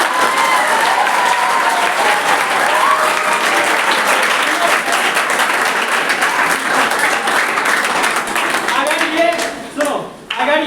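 Sustained loud applause from a class audience, dense clapping filling the room for about ten seconds before thinning out near the end, with a few voices mixed in.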